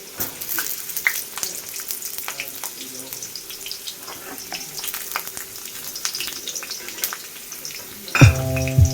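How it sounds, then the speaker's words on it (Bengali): Potatoes, cauliflower and other vegetables frying in a pan for khichdi, a steady close sizzle with scattered crackles and faint utensil ticks, ending in a short louder clatter. "সেখানে আলুগুলো ভাজছি এবার ফুলকপি একটু সবজি টবজিগুলো ভেজে খিচুড়িটা বানিয়ে নিলাম"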